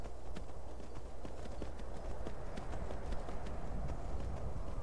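Rapid galloping hoofbeats of a horse in the video game Skyrim, racing down a mountainside in a steady, driving rhythm over a constant low rumble of game ambience.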